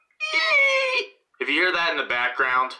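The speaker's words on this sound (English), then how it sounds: "that's one of the kittens crying" A kitten cries in two drawn-out, wavering calls, fairly close and loud, separated by a brief pause, with a voice speaking alongside the second call.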